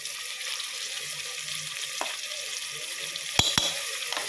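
Tomatoes sauté in a pan with a soft, steady sizzle underneath, interrupted near the end by a couple of sharp metallic clinks from a utensil against the pan.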